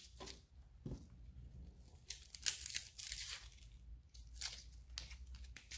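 Papery outer skin being peeled off a halved onion on a cutting board, a close, quiet run of dry tearing and crinkling rustles in short bursts.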